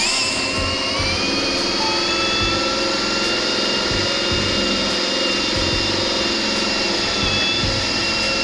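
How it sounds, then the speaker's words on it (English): A cordless drill bores through steel angle iron while a motorized bicycle with a 212cc Predator engine is being built, giving a loud, steady high-pitched whine that runs continuously, close up and with no talking. "Now we gotta drill it through the angle iron."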